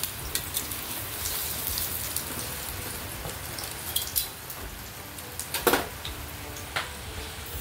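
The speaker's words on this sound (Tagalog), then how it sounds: "Ulan ng ulan." Steady rain falls outside, a continuous hiss of drops on surfaces with scattered louder drips and taps that bunch together toward the end.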